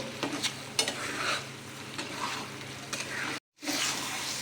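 Eggs and fried potatoes stir-fried with spices in a pan for a coriander egg curry, a steady close sizzle with scraping stirs and a brief break near the end.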